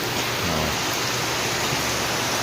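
Heavy rain pours steadily under dark skies during a storm with wind and flooding, a dense continuous hiss close by with no voices.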